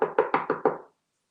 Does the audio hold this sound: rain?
no